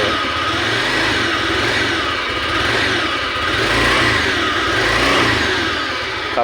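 A Honda Vario 125 scooter engine, sluggish and not responding well to the throttle while still cool, revs in uneven swells close by, rising and falling several times with no talk over it.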